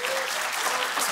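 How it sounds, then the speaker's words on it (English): An audience at the Design in 7 design event applauds, a dense, even wash of many hands clapping at steady loudness through a brief one-second stretch. "please applaud if you have never been to Design in 7 before"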